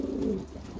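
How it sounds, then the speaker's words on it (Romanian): Pigeons coo in a low, continuous murmur at close range while eating a meal of greens on a hot day. "Astăzi le-am servit o masă verde porumbeilor."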